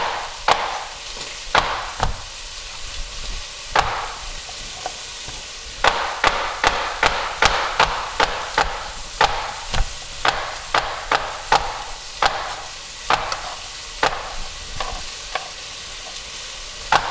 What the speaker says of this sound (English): No matter what cuisine, I still chop like I work at Noodle Town.